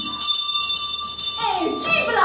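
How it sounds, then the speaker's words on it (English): A school supper bell rings with a bright, steady metallic tone, and girls' voices and chatter follow under it. "There goes the supper bell."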